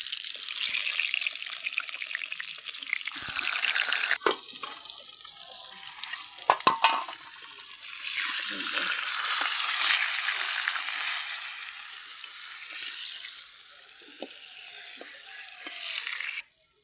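Eggplant slices coated in salt and turmeric fry in a pan with a steady broadband sizzle, punctuated by a few sharp clinks and splatter bursts, close and continuous with no talking.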